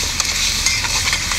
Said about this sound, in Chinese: 翻炒一下啊